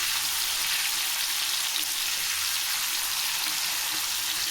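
Fish frying in a pan: a steady, close hiss of sizzling oil that runs evenly the whole time, with no break.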